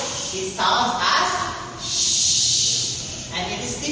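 Voice imitating a classroom hushing shh sound, three drawn-out hissing bursts of varying length, the middle one longest, separated by brief pauses with quiet room noise.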